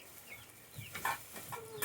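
Rooster clucking nearby, a few short soft clucks and squawks scattered over a quiet background, faint overall with no talk.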